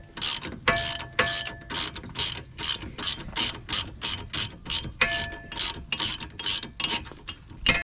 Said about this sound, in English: we're tightening down the suspension arm bolt right now